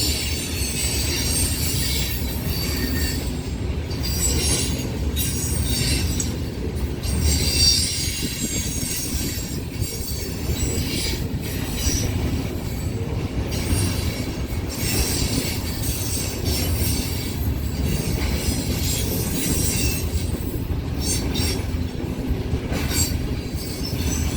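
An empty westbound coal train drag with a C44 mid-train DPU rolls steadily past at Fremont, Nebraska, its wagons rumbling and the wheels squealing continuously and loudly for the whole stretch.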